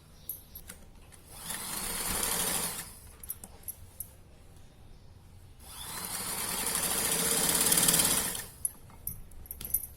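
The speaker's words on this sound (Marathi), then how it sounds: "अशा ह्या दोघी पायाच्या शिवून घ्यायच्या." Sewing machine stitching the hem of a child's salwar leg in two bursts, each running steadily for about two seconds, with short pauses and faint handling clicks between.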